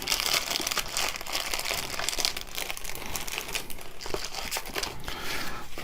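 Plastic bags holding parts for a Flyhawk 1/700 HMS Aurora 1941 model kit crinkle and rustle continuously up close, a dense steady crackle with no talking.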